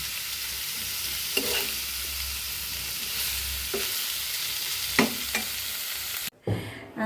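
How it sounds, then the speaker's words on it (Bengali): Steady sizzle of cauliflower frying lightly in oil, with a few scraping stirs of a spatula against the pan and a brief knock near the end, close and without speech. "হালকা একটু তেলে ভাজা ভাজা করি।"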